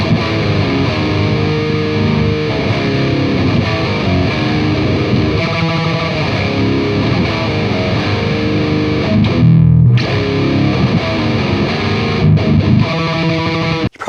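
An electric guitar plays through an amp and a V30 speaker cabinet with no pedals, giving a dense, continuous driven tone with chords and riffs that run without a break, loud and close.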